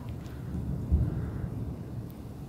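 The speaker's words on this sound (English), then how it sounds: "And the lightning thunder is really close by." Close thunder rumbles low and heavy during a thunderstorm, a deep rolling boom that swells briefly before easing back into a dull continuous rumble.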